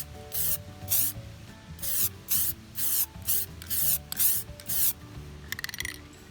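Short bursts of spray paint hiss onto an Audi wheel center hub in light dusting passes, about nine quick, close sprays in an even rhythm with brief pauses between.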